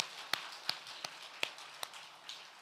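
A few sparse, separate claps from a church congregation during a Sunday worship service, five or six sharp slaps spaced about every half second, faint and with no dense applause building around them.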